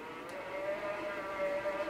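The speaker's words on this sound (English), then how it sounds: "I run the yarn through to the ball winder. And we'll let it wind right now." Yarn feeding from a skein on a swift into a heavy-duty ball winder, a steady whirring motor hum with a faint whine, close and continuous, with no talking.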